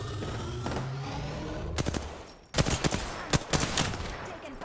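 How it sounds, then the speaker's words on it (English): Rapid bursts of automatic gunfire in the shooter game Apex Legends, a steady stream of shots followed by a short pause and then loud, sharp volleys close up. "Taking fire."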